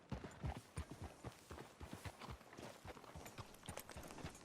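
Horse hooves clip-clop in an even walking rhythm in the video game Red Dead Redemption 2, a steady series of crisp, moderately close hoof strikes on hard ground.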